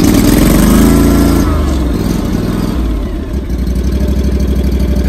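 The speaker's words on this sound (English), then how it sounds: "This is how you start the machine." A core aerator's small gas engine starts and settles into a steady, loud running hum that continues to the end, with a brief dip in the middle.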